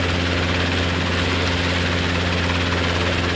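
A Robinson R22 training helicopter's engine and rotor produce a loud, steady, close-up drone with a deep low throb that runs unbroken throughout.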